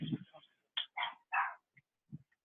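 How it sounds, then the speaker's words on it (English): A dog barking at home in several short, sharp barks spaced irregularly with gaps of silence, fairly close, with a brief low voice at the start. "you're barking at nothing"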